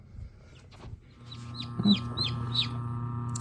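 Several high, thin peeps from a newly hatched chick inside an incubator repeat in quick succession over the incubator's steady mechanical hum.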